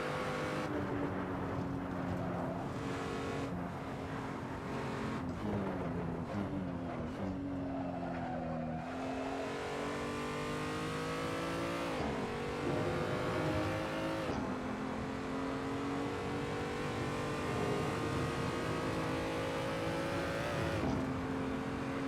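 A BMW M235i races around the Nordschleife in Assetto Corsa, its engine droning steadily and climbing in pitch, then dropping sharply at each upshift before building again, loud and continuous with no talk over it.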